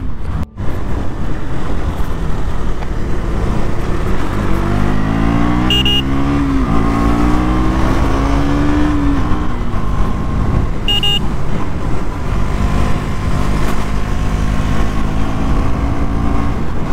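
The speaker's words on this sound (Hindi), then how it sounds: "भाई मज़ा बहुत आ रहा है बाइक चलाने में" Motorcycle ridden solo along a mountain road in Kashmir near Shaitan Nala, a steady loud engine drone with constant wind rush throughout, rising and falling tones as it climbs, and two brief horn toots.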